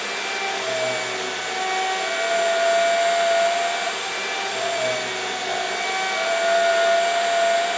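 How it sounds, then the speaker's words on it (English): Horizontal mortiser cutting end grain mortises in wood components, a loud continuous motor whine with steady tonal hum and faint shifts in pitch as it works, no talk. "I'm going to use my horizontal mortiser."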